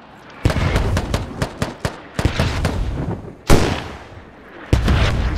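Rocket launcher fire in the military shooter game Squad: a loud, sudden blast stands out amid a rapid patter of gunshots, then another heavy boom follows near the end.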